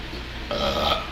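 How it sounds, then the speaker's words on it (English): A single loud, drawn-out human burp lasting about half a second, close to the microphone, with no talking. "he's burping a lot"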